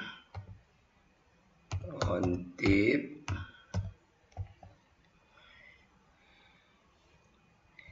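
A computer keyboard is used to type a spreadsheet formula, giving scattered light clicks and short bursts of keystrokes at close range, mixed with a voice speaking over some of them.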